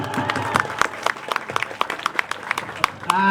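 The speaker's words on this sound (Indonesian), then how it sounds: "Aplaus dulu." An audience claps in a loose, uneven burst of applause, individual hand claps standing out close by, with some talk mixed underneath.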